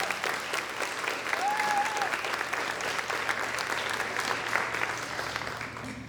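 Audience applause for the judges at the 2021 Miss Grayslake Pageant, a steady, dense clapping from a large indoor crowd sustained throughout.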